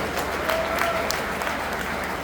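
A seated crowd at a live Kumar Vishwas poetry gathering claps together in a brief, even burst of applause that stays steady and fairly close.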